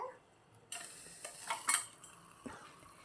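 The lid comes off a hot miniature cooking pot: a sharp metallic clink, a few light scrapes and taps against the small pan, then a faint sizzle underneath, close up with no talking.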